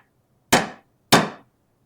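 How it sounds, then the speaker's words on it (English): Two sharp hammer strikes from a very light hammer on metal trim for a Mandalorian shoulder armor piece, evenly spaced about half a second apart, bright and ringing with quick decay, close and alone. "But this is also an incredibly light hammer"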